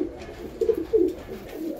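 Pigeons coo close by in a few soft, low, throaty murmurs that come in short rolling bursts across a brief moment.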